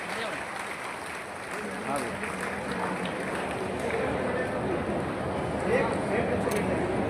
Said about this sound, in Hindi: तालियां आप सबकी जोरदार होना चाहिए